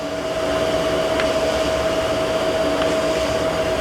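A Jakobsen hydraulic surface grinder runs with a steady, loud whine and a constant tonal hum, with faint soft ticks as the table feed reverses.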